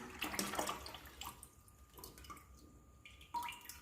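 Water being stirred and mixed with banana flower juice and sugar to make a liquid fertilizer, giving a soft continuous splashing and trickling, fairly quiet and close, with a brief louder surge near the end.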